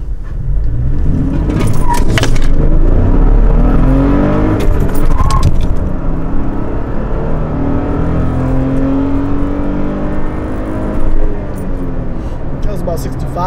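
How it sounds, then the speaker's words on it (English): A Toyota Tacoma TRD manual V6 pickup launches and accelerates hard, its engine note rising loud and close through the gears, with a person talking over the run. "We launch it like a truck."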